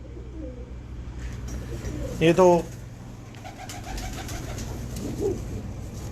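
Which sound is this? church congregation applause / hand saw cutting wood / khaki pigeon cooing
khaki pigeon cooing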